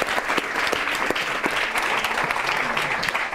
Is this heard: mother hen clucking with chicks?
no